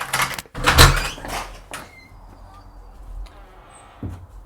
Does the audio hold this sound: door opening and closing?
yes